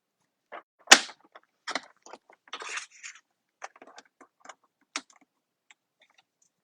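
Red cardstock strip being cut for a Christmas card, a series of sharp, crisp snips and small clicks up close, one louder cut at the start and then lighter scattered ticks.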